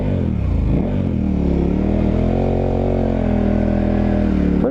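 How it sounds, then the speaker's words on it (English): A dual sport motorcycle on adventure or 50/50 tires spins its rear wheel in deep sand, with a loud, close engine holding a steady droning rev for several seconds. "We got good wheel spin in the back."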